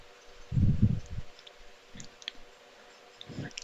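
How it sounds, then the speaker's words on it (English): A computer mouse clicks a test button: a few soft, short clicks and dull desk thumps, close and faint, with quiet gaps between them. "Let me click on take a test button."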